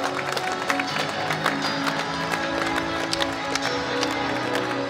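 Audience applause at a youth tennis tournament finals ceremony for 10–12-year-olds, a steady dense clapping wash that holds for the full stretch, with faint crowd murmur beneath.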